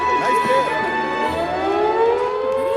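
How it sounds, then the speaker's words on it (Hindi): A civil defense air raid siren wails loudly and continuously, its rising tone sustained throughout the stretch, with faint background sounds beneath. "सायरन की आवाज"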